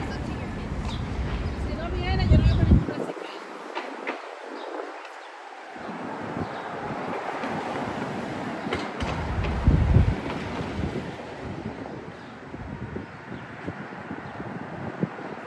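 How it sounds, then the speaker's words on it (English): Gusts of wind on a windy spring day in Harlem during a bike tour buffet the microphone in loud low bursts, with city sounds around and a voice speaking. "Yeah, it is a windy day today."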